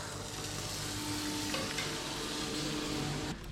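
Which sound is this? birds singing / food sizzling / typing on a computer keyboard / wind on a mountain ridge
food sizzling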